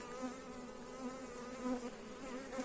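Honey bees buzz at a beehive after the honey harvest, a soft, continuous droning hum from many insects that wavers slightly in pitch without pause.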